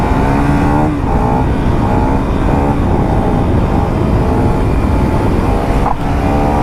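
A superbike engine roaring loudly and continuously while wheelieing through the gears, close up with heavy wind noise and a brief pitch change as a gear shifts.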